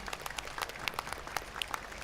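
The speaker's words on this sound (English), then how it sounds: "So could we all now please put our hands together to show our appreciation to our wonderful volunteers. Big round of applause." Outdoor audience at a Christmas carols by candlelight concert clapping for the volunteers, scattered, fairly distant applause with individual claps popping out of a thin crowd wash.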